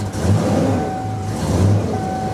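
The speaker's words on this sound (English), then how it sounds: "Let's give it a rev." A 1990s American muscle car, a barn find that has just been brought back to running, revs its engine up loudly twice in close, rising and falling surges over a steady idle rumble.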